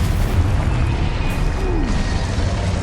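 The Confringo fire spell explodes in Hogwarts Legacy: a loud, dense blast with a rumbling, crackling body that fills the whole moment, with mechanical rattles mixed in.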